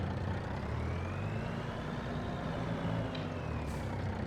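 A truck in the Farming Simulator 25 video game rumbles with a steady engine drone, and a short hiss of air brakes is released near the end, with no talking.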